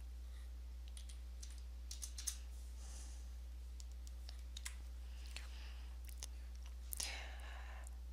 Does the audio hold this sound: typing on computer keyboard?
yes